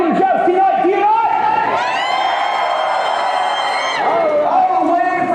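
Crowd at a renaissance fair jousting show cheering and whooping loudly, a sustained roar of many voices with rising shouts, near and continuous throughout.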